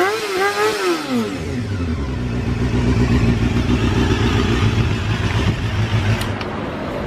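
A Honda Jade 250cc four-cylinder high-revving motorcycle exhaust climbs then holds a steady, buzzing idle, loud and close, with a rattly mechanical edge.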